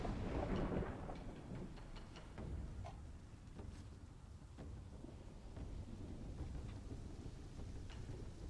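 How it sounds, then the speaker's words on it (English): A lightning storm spell strikes down in a video game, giving a broad rumbling roar with sharp crackling strikes spread across the whole stretch, steady and fairly loud with no talking. "Now you can see how big this lightning storm is, and it strikes down instantly."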